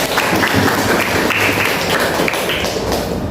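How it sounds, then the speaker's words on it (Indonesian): A classroom of students claps hands together in a brisk, continuous burst of applause, close and fairly loud, with a few thuddy taps mixed into the steady patter. "Oke, tepuk tangan buat kita semua."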